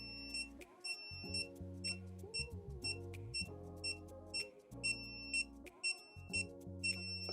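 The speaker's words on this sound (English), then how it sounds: "So the controller beeps" A wireless dog fence controller sounding repeated high electronic beeps in short regular bursts, close and clear, over a low changing hum.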